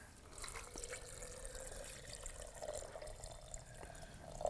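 Water pours into a cooking pot on a backcountry camp stove while backpacking ramen is being made, a soft, steady trickle and splash at low volume that runs throughout with no talking.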